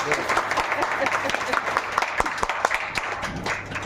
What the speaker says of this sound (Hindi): तालियां तो बजा दीजिए, जोर से तालियां।